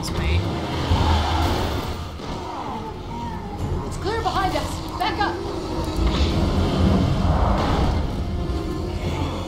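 A car drives in the video game Resident Evil 6, a steady engine and road rumble running throughout while people talk over it.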